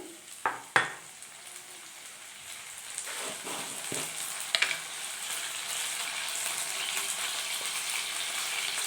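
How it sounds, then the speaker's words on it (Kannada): Methi dal ingredients frying in a pan for a hotel-style fenugreek-leaf dal, giving a steady soft sizzle with a few sharp clinks of a spoon against the pan early on, close and alone without talk. "ಒಂದು 2 ನಿಮಿಷ ನೀಟಾಗಿ ಫ್ರೈ ಆದಮೇಲೆ"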